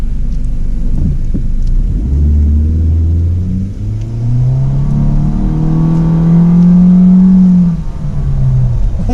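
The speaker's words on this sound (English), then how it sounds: "Oh, that sounds like a CVT" A 2016 Honda Civic with a CVT pulls away from a standstill, a steady rising engine drone that climbs smoothly and holds near one pitch rather than stepping through gears, loud and close inside the cabin.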